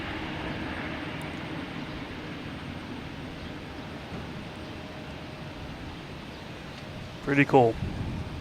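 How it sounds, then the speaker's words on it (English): An Etihad Boeing 787 Dreamliner airliner at Boston Logan Airport makes a steady, distant jet roar throughout, and a voice speaks briefly near the end. "Dreamliner."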